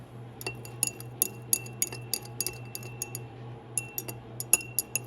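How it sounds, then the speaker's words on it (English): Glass stir rod clinking against a glass container while milk and vinegar are swirled, a quick irregular series of bright, close ticks and taps over a faint low hum. "I'm going to swirl it with a stir rod."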